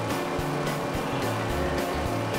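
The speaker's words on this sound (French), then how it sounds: "Admirez un peu Weather qui slalome entre les voitures." Race cars from a Cars video game roar past one another, a loud continuous engine drone with rising and falling whooshes as they pass, filling the whole moment.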